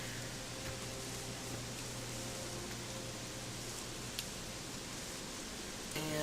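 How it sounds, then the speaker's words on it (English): Steady night rain in the video game Gothic 3, a constant broadband hiss of falling drops that stays even throughout, with a low hum underneath and a faint tick near the end. "it's getting late at night and it's raining"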